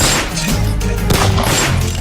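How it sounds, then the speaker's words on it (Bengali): Loud bursts of gunfire and thumping impacts from a Bangladeshi cinema trailer, several sharp shots in quick succession over a dense film soundtrack. "এই বান্দায় গুলি করছে, কই গুলিটা যায় লাগছে কই?"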